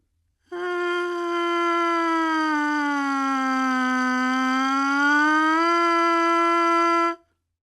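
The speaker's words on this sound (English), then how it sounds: "you will perform your downward siren, then simply return to your original starting pitch" A trumpet plays a single sustained note that slides gradually down in pitch and then glides back up to its starting pitch, a smooth, loud, continuous siren exercise heard alone for about seven seconds.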